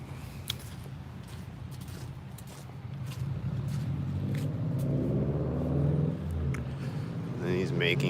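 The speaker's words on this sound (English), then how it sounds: "he's making loud engine sounds behind me with his blue car" A car engine rumbles and grows louder as a vehicle drives past nearby, with some background noise and faint footsteps.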